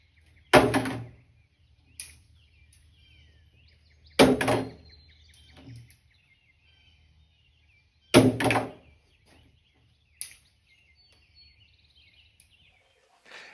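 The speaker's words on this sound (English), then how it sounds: "it landed directly on the optic" A pistol fitted with a ROVAC optic is dropped at an outdoor range, landing on the optic. Three separate sharp impacts ring out, each followed by a smaller bounce, against a quiet background with faint birds.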